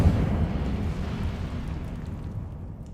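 Incendio fire spell cast in Hogwarts Legacy, a heavy rumbling burst of flame that starts loud and slowly fades over three seconds, alone with no talk.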